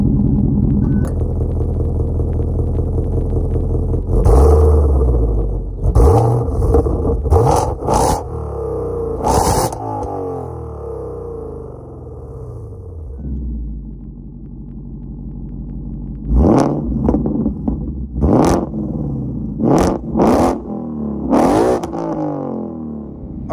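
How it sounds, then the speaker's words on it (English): A Roush RS3 Phase 2 Mustang with a supercharged 5-liter V8, six-speed manual and sport exhaust idles with a deep rumble, then roars through a series of sharp revs in two clusters, each blip falling back to idle. "that was of course the sound of the 5-liter supercharged V8 engine sold by Roush"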